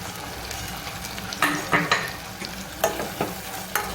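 Chili frying in a pan with oil while a spoon stirs, giving a low steady sizzle broken by several sharp scraping strokes, close and alone without talk.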